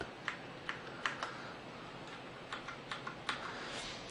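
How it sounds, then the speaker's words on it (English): Faint, sharp clicks from a Corsair Vengeance K90 gaming keyboard as keys including caps lock are pressed, spaced irregularly in a quiet room. "I'll turn the caps lock off as well so you can see me doing that"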